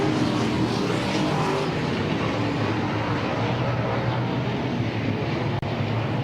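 Race cars battling for position during a night feature race, a continuous loud engine roar sweeping past, heard without talk over it.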